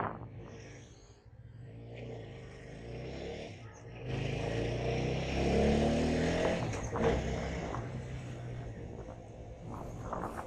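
Morning city traffic in Bangalore, with cars and motorbikes revving and passing close by, a steady engine drone rising and falling with a louder passing vehicle midway.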